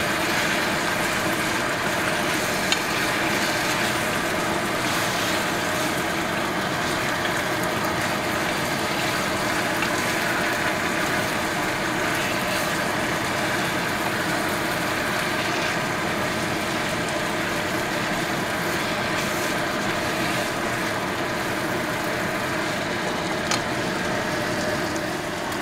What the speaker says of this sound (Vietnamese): mình phải mở cái máy hút hơi đó các bạn,